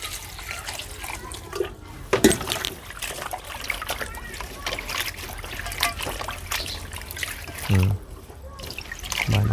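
Water runs and splashes steadily from a tap while food is rinsed before cooking a bamboo shoot curry, with brief clatter and a voice speaking over it at times.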